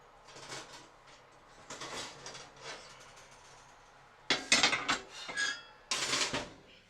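A cast iron skillet is lifted out of an oven with metallic clanks and scrapes: softer rattling first, then several louder close knocks and bangs near the end, no talking.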